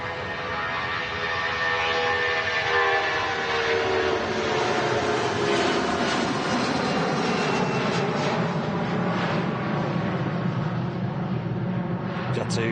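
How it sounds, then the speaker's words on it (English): Jet aircraft taking off from Manchester Airport, a loud sustained engine roar that builds and holds as the plane climbs away, with a person talking over it. "Jet 275 blasting out of Manchester Airport there. With a great sound, as per usual."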